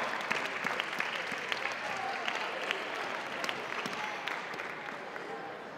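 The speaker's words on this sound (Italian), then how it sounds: "un applauso anche per loro" A crowd claps at a Christmas gathering of the Juve Stabia youth football sector, honouring staff called to the front; steady, dense applause holds evenly throughout with no speech over it.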